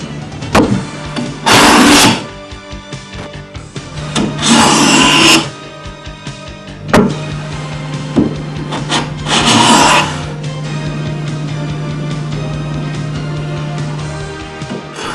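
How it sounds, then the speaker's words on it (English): Hand plane dressing a timber edge toward a chamfer, three loud, close rasping strokes of a couple of seconds each, separated by quieter handling noise and a low steady hum. "A chamfer can be cut on the problem edge to prevent splintering, and the timber planed towards the chamfer."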